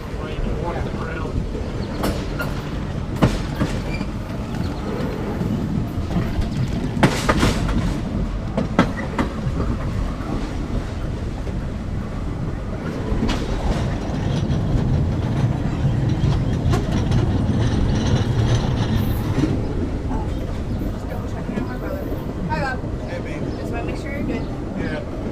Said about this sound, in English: I'm watching the whole train.